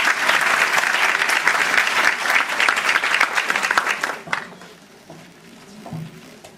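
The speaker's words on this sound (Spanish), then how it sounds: "Un cariñoso aplauso a la profesora." A university audience at an education faculty gathering bursts into loud, close applause for a professor, dense clapping that stays strong for about four seconds, then quickly tapers into a few scattered claps and a quiet room.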